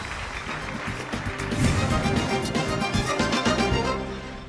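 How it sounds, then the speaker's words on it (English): A quiz-competition audience claps in a steady, dense round of applause for the young contestants on stage, a continuous wash of hands that swells in the middle and tapers off at the end. "A round of applause, please."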